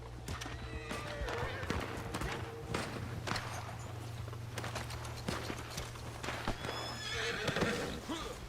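A horse in a video game neighs and whinnies repeatedly while its hooves pound in a fast galloping rhythm over a steady low game hum, with a voice talking at times.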